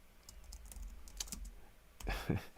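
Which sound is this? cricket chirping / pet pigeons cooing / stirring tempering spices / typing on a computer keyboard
typing on a computer keyboard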